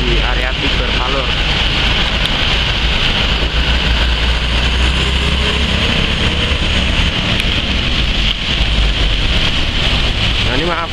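Heavy rain pours down around the railway station area at Palur, Indonesia, forming a loud, dense, steady hiss that lasts the whole stretch, with faint speech mixed underneath.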